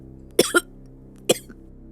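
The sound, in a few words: coughing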